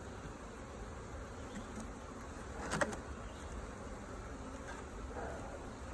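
Honeybees hum steadily around an open hive during an inspection, a dense, even buzz filling the whole stretch, with a brief louder bee passing close near the middle.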